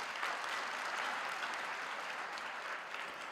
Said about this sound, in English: Can we give them a round of applause, the leadership?